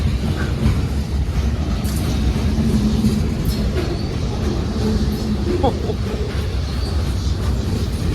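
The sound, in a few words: freight train led by AC44C6M locomotive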